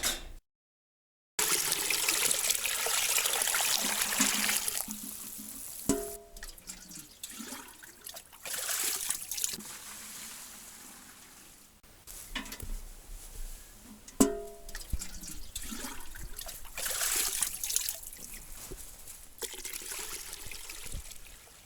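Water trickles and splashes from an old hand-dug well from the 1700s, a steady close-up flow with a few louder bursts and knocks, heard alone without talk.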